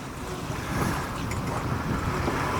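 A sailboat in high wind of about 20 knots: loud, steady wind roar buffets the microphone while waves wash and surge around the hull, with no talk.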